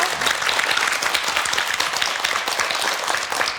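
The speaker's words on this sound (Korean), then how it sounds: "저희가 큰 응원의 박수 보내드릴까요?" A television studio audience applauds warmly, a close, full burst of many clapping hands that holds steady throughout, with a hint of voices beneath.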